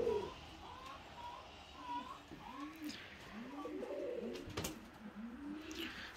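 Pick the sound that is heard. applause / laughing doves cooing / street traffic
laughing doves cooing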